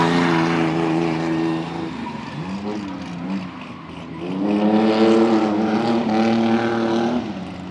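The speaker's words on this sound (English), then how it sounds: "We got Joe Mondra coming around and his Drift Ranger." Ford Ranger drift truck at a drift competition, its engine revving loudly and rising and falling in pitch as it comes around the course, with no talking.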